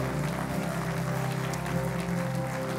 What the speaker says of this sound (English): let's clap our hands and welcome them to the family of God